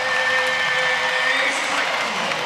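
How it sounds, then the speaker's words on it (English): Arena crowd at a 2022 NCAA women's volleyball regional final, Louisville versus Oregon, roaring and clapping continuously after a point, a dense, steady wash of cheers and applause with a commentator's voice over it. "Crowd loves it."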